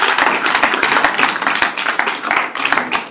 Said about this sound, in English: can we give them a round of applause back?